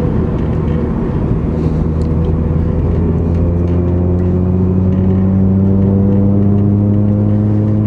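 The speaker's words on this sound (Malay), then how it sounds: "minta maaf bunyi berdengung agak dalam kereta ni" Steady low engine hum inside a moving car, with strong droning tones that slowly rise in pitch as the vehicle accelerates, loud and continuous throughout with no talking.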